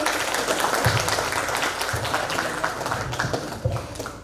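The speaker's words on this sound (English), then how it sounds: "Give applause for Mr." Lecture audience applauding a guest speaker at an international guest lecture, a continuous patter of clapping with some louder individual claps standing out, steady and fairly close.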